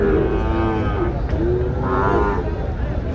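A Sahiwal cow moos loudly and close at a cattle market, two drawn-out lowing calls over steady background noise.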